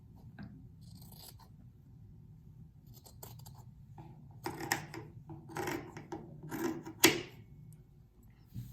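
Scissors snipping through a tee shirt, a series of close, quiet crisp cuts that grow denser and louder toward the end, no talking.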